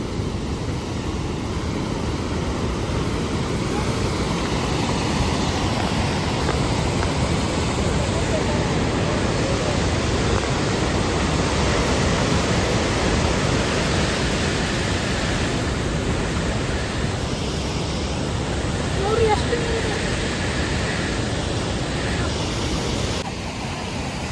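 Water rushes through a dam with its gates partly opened, a constant loud broadband roar that fills the whole scene without pause.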